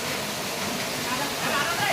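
Rampa waterfall pours down from the hills, a loud, dense and unbroken roar of falling water close by.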